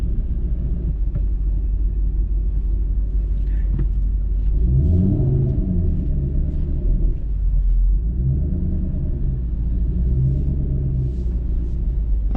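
A 2012 Ford Shelby GT500 engine rumbles steadily from inside the car during a dragstrip pass, a loud continuous drone that rises and falls as it revs through the gears.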